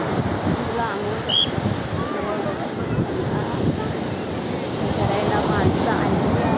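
Big waves at Devgad beach crash and wash in a continuous broad rushing roar, steady and fairly loud, with wind buffeting the microphone throughout.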